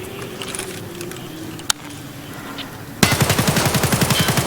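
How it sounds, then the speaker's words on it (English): An AK-74M rifle in Escape From Tarkov fires a sustained full-auto burst of about a dozen rapid, evenly spaced loud shots after a quieter stretch with one sharp click. "now let me show you auto fire"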